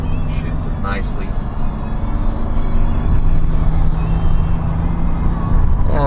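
Supercharged Toyota Crown Royal Saloon GS131 with a 1G-GZE engine accelerating on the road and shifting up around 3000 to 4000 rpm, a steady close engine drone under road noise with someone talking over it.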